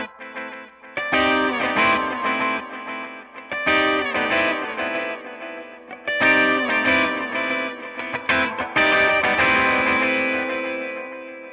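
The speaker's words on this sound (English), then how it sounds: "the saturation and the distortion is a lot higher on this mode." A Boss RE-202 Space Echo pedal in a high-saturation mode gives heavily distorted, echoing music. The processed tone is loud and continuous with a few pulsing swells and no speech.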